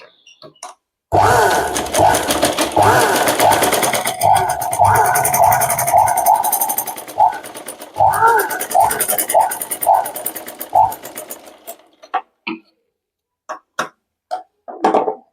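Motor-driven domestic sewing machine stitching, a close, loud whirring drone in several bursts of a few seconds each, easing off into short separate stitches toward the end, with a voice speaking briefly.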